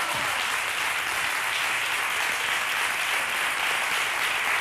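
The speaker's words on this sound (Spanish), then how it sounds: "nuestro amigo José Pedro, un aplauso para él." Sustained applause from a studio audience on a Spanish television comedy show, steady and dense throughout without pauses, with no talking over it.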